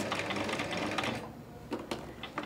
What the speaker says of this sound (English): I'm going to select a straight stitch and sew a couple of stitches